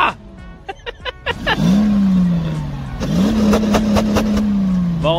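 A Mercedes 430 S car engine revs hard, settling into a loud steady drone, dipping, then revving again and holding high; sharp ticking bursts are heard at the start.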